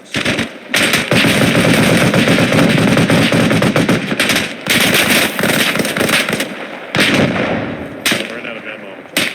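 Loud, dense gunfire from the Arma Reforger video game, with sustained automatic bursts and brief pauses between volleys, filling the whole stretch.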